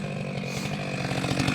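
A chainsaw runs steadily while cutting pin oak firewood, its loud, close, buzzing roar holding throughout with slight pulsing in the cut and no talking.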